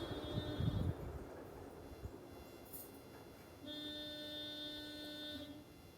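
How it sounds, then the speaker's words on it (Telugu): A sustained tonal horn blares in a Roblox escape-school obby game, one long blast at the start and another steady, held honk in the second half, moderately loud over low background noise. "హారన్ సౌండ్స్ అవి ఉంటుంది గైస్"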